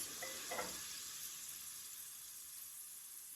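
Onions going into a pan to saute for a creamy bacalhau dish, a quiet steady sizzle with a brief burst of crackling as they land, then a soft even hiss.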